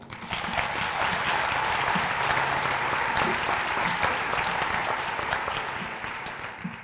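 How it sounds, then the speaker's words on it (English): Sustained applause from an audience at a teacher of the year awards ceremony, a dense even wash of clapping that holds steady for several seconds before fading slightly at the end. "Amy Anderson deserves applause for May Draper Elementary's Teacher of the Year."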